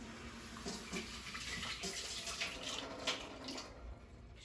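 Tap water runs steadily as chicken stew vegetables are rinsed in a sink, a continuous broadband splash with small bumps and clatters as the ingredients shift under the stream.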